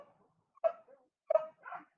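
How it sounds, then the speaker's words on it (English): Two or three dogs bark in short, sharp outbursts, a pair of loud barks followed by a softer yelp, close by with quiet gaps between them. "Dogs, be quiet."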